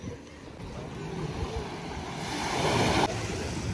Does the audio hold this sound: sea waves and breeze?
yes